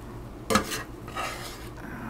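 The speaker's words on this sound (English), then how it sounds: "put a good fistful in there and stir that up" Cheese being stirred into a ham casserole in a pot on a hot stove, a sharp utensil scrape against the pot followed by softer scraping and stirring strokes, close by and moderately loud.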